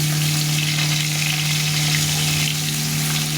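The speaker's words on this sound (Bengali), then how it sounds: "এখন উল্টো পাশে ভেজে দিই" Fish pieces seasoned with salt and turmeric sizzle in hot oil after being turned to the other side, a steady, loud, close crackle without any voices.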